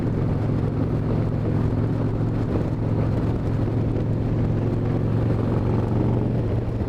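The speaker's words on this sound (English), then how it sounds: "But this bike is darn great for running around on the highway." A 1997 Harley-Davidson Wide Glide motorcycle cruising on the highway, a loud, steady engine drone blended with heavy wind rush that holds constant throughout, with no voices.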